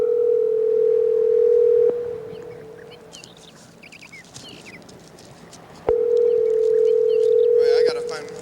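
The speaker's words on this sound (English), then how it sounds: "let's call Freddie, the producer" A phone dial tone hums steadily while a call is being placed, breaks off, and comes back after a stretch of quieter room noise, close and clear.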